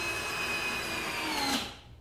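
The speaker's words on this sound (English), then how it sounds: "And I am drilling this to the wooden brace that I have here." A power drill drives into a wooden brace on a chicken brooder build, a steady whirring grind that holds for over a second and then winds down and stops.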